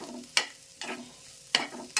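Masala and carrots being stirred for tawa pulao in a pan: a few separate scraping strokes of the spatula over a soft frying sizzle, close and moderately loud, with no talking.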